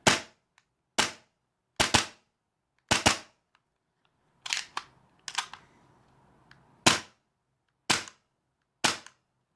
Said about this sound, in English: So I'm going to do a few shots here.